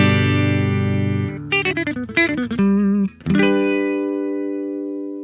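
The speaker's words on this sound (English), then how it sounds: "This guitar requires electricity and speakers called amplifiers like this to make a sound." Electric guitar played through an amplifier: a held, ringing chord followed by a quick flurry of picked notes, then another sustained chord, loud and close with no talking.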